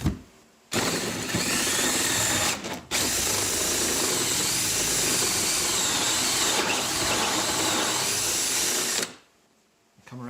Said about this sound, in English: now we're going to go ahead and drill out the hole for the doorknob.